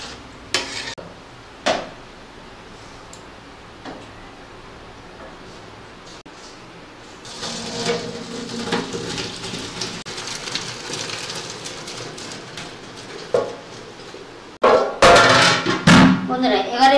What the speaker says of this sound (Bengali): এবার আমি এটা ছেঁকে ভালো করে ধুয়ে নেব।